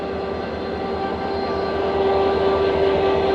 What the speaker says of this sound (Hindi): तो चलें देखते हैं कि आज की क्या स्पीड रहती है ट्रेन की।